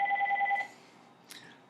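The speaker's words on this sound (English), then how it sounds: "Oh, great. The phone's ringing." A telephone rings in the background of an indoor room, a steady electronic warble that cuts off after about half a second, followed by a quieter brief sound and near silence.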